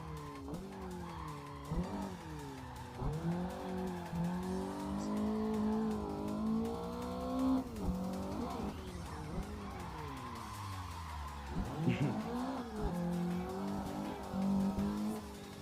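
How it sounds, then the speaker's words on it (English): Racing cars roar through Assetto Corsa, engines rising and falling in pitch through repeated gear changes, with tire squeal and skidding layered over a steady, close engine drone. "Yeah, car coming."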